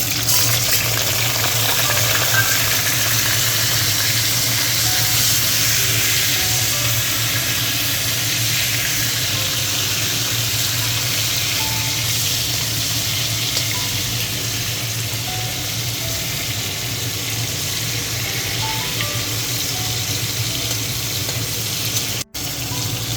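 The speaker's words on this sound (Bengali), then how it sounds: "আমি তেলে শুটকিগুলো ভেজে নিচ্ছি" Continuous frying hiss of dried fish in a pan of oil, steady and fairly loud for a long stretch, with faint crackles and no talking.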